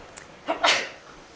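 A single sharp sneeze sounds close by in a quiet indoor gathering, a quick intake followed by a bright burst that fades within a second.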